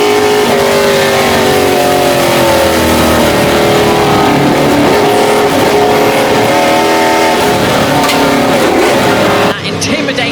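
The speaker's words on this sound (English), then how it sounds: "That intimidating image of having a Ford Mustang all over the rear of your car, especially when Fred Shepherd is behind it." A Ford Mustang Boss 302 race car roars at full throttle during a reverse-grid race at Goodwood, its loud, sustained engine note rising and falling through gear changes, with commentary over the din.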